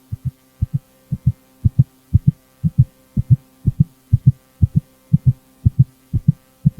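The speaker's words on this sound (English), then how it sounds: "That's not my heartbeat." A heartbeat sound effect from the horror game The Boiled One: loud, steady, low double thumps repeating about twice a second with no voices over them.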